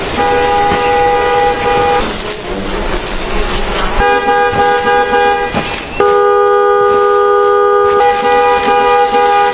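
Loud sustained car horns blare in long steady blasts, with a short noisy gap of traffic between them, close and insistent.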